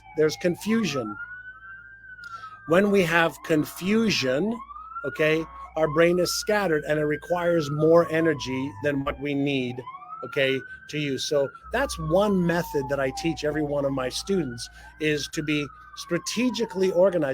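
Emergency sirens wail outside in repeated rising and falling sweeps, moderately loud and steady behind someone talking continuously in the foreground.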